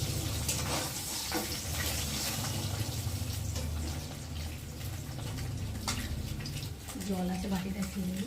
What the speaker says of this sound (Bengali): তো দেখো ডিমগুলো ভাজা ভাজা হয়ে গেছে